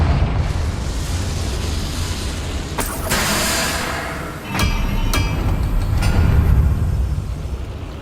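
Confringo spell explosions in Hogwarts Legacy, heard as loud fiery bursts with a couple of sharp cracks layered over a dense, continuous roaring rumble of battle noise, with no speech.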